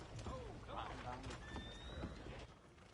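A horse in Red Dead Redemption 2 whinnies amid clip-clop hooves and game ambience, with speech running over the top, fairly quiet overall.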